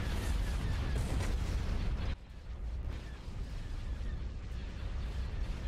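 Heavy cannon fire from a high velocity cannon in Star Wars: Empire at War, a dense loud roar of blasts and mechanical rumble that drops sharply partway through, then continues as a lower, steadier battle din.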